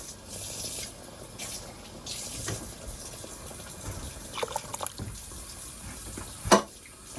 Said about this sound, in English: So, always rinse your can out a little bit.